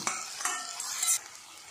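Tomato cooks in hot oil in a pan for a paneer masala, a soft continuous sizzle with a stirring scrape or two, brief and fairly quiet.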